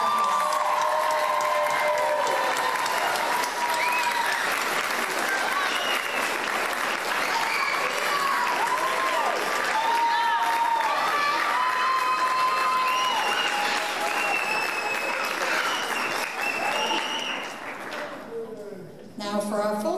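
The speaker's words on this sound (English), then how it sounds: "Let's give them a round of applause." A graduation crowd applauds practical nursing graduates, sustained loud clapping with some cheering, while a voice speaks over it before the applause thins at the end.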